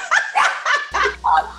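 A puppy barks and yips in a rapid string of five short, loud, close calls, with a low hum entering partway through.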